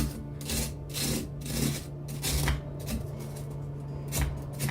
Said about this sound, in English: now I'm just going to kind of keep scraping it onto this board here